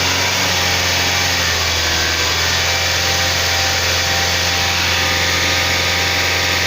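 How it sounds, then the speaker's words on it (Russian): A Kia Sorento 2.0 TGDI engine held at about 1500 rpm after repair of a knocking connecting rod runs with a loud, steady hum and constant whine, close up and unbroken, without speech. "Подержи на оборотах немного. Дай 1500, Андрюха, пусть поработает."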